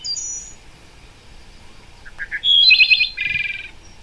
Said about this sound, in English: Do you have wood thrush nesting where you are?